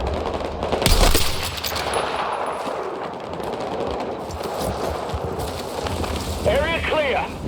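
Gunfire in the video game Battlefield 6, Mission "The Rock": a loud burst near the start, then continuous rattling fire and rumbling battle noise with a voice speaking over it.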